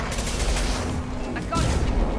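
Gunfire in Mass Effect 2, a dense burst of rapid shots and booms filling the short span at steady loudness, with a voice calling out in the midst of the firefight.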